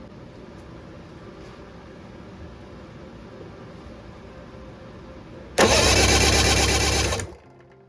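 A Mercury 650 65hp outboard engine cranks during a compression check in a single loud, close burst of about two seconds, with a steady low rumble before it.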